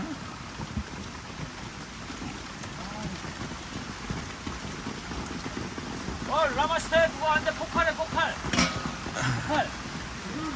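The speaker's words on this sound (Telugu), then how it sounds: "నీళ్ళు పడుతున్నాయి దానిపైన" Steady rain pattering on an extended shelter roof at a farm during an early-morning downpour, a continuous close wash of drops with a voice talking over it partway through.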